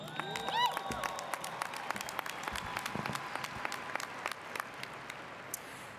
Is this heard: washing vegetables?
no